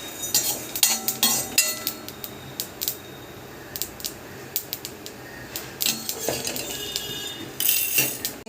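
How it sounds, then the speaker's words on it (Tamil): Sesame seeds, fenugreek and asafoetida dry-roast in a hot pan without oil, with irregular metallic clinks and scrapes of a spatula against the pan coming through loud and close. "நல்ல சூடான வாணலியில் எள்ளு, வெந்தயம், பெருங்காயம் இதை எண்ணெய் விடாமல் வறுத்து எடுத்துக்கணும்"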